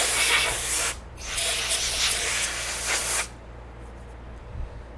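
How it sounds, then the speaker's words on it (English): Compressed air hisses in two strong blasts, blowing sanding dust off 1:350 scale Enterprise refit model engine nacelles, then cuts off to quiet room noise. "I'm going to use a little compressed air to blow it off."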